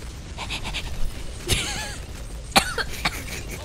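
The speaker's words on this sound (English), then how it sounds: "I keep coughing" Two sharp coughs ring out close by, separated by about a second, with faint breathy sounds between them.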